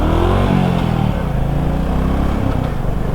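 Yamaha MT-15 V2 motorcycle engine revving up close, loud throaty pulses with pitch rising and falling in quick throttle blips over a few seconds.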